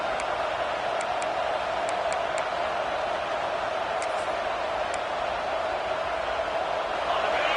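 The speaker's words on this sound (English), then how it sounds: "It's early, but this crowd is fired up. Listen to this noise here." Steady roar of a cheering stadium crowd in a football video game, a dense, even wash of noise holding at one level throughout, with a few faint ticks and clicks scattered over it and no speech.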